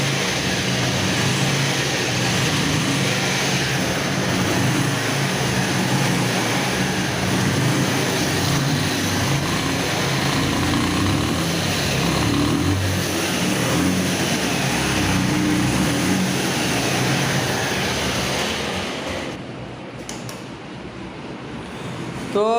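Bajaj Pulsar motorcycle engine idling after a start, with new piston rings not yet settled: a steady close mechanical drone that holds evenly, then drops away near the end.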